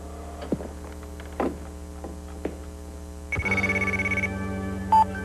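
A Radio Shack mobile phone from a 1989 TV commercial rings with a steady electronic trill partway through, over a constant low mains hum and a few faint clicks.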